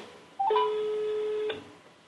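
An outgoing phone call plays a short electronic dial tone: a brief higher chirp, then one steady beep held for about a second before cutting off, close and alone.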